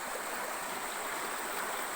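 Steady rushing water fills the whole stretch, a continuous broadband wash like a river flowing close by, with no voices.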